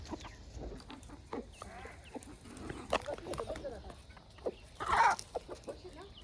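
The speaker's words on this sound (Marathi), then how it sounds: "सोडल्यात कोंबड्या तर ह्या अशा ही कोंबडीची नवीन पिल्ल" Village hens cluck near and far amid scattered peeps from newly hatched chicks, with a person talking intermittently in the background.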